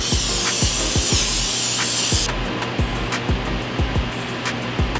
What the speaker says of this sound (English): Spray and flour your pan.